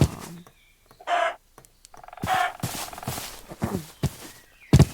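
Minecraft chickens cluck in short blocky video-game bursts, a few separate calls spaced across a quiet stretch with soft game noises between them, fairly close and moderately loud.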